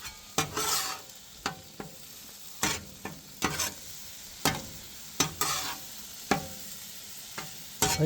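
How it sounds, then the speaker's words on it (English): Sweet Baby Ray's hickory brown sugar barbecue sauce being stirred into cooked venison in a pan, with repeated sharp scraping strokes at an irregular rhythm over a low, steady sizzle, close and fairly loud with no talk. "Then mix me in some Sweet Baby Ray's hickory and brown sugar."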